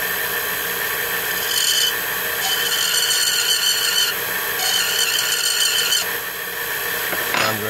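A hand file rasps against the outside edge of a wooden flywheel pattern for brass casting, in several short bursts of repeated strokes, close and fairly quiet, with a faint clunk at the end.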